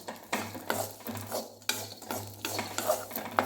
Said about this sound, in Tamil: லைட்டாக இப்படி வறுத்த போதுங்க